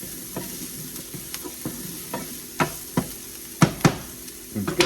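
Beef tenderloin sizzles in a hot frying pan, a low continuous crackle broken by a handful of sharper pops and utensil clicks, with nobody talking.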